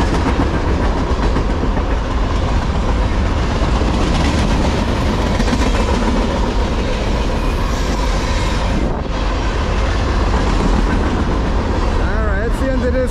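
CSX freight train M406, led by an ES44DC locomotive, rumbles past steadily and loudly at South Plainfield, with continuous clattering wheels and a faint squeal near the end, someone speaking briefly underneath.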